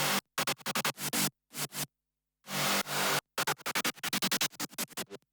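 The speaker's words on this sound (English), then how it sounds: "So this main wub 3 bass sound is the main sound of this second drop." Stuttery synth wub bass from the second drop of a remix, its wavetable position and filters automated, heard alone as rapid chopped sixteenth-note bursts separated by abrupt gaps, with one longer sustained swell midway.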